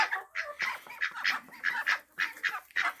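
Chickens and ducks kept together in a farmyard poultry yard give loud, close honking calls in quick bursts, with brief pauses between clusters and no talking.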